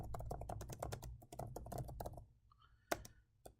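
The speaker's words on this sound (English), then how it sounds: "So I'll type that in." Rapid clicking of typing on a computer keyboard, steady bursts of keystrokes for about two and a half seconds, then a pause with a few isolated clicks and one sharper tap; close and fairly quiet, no talking.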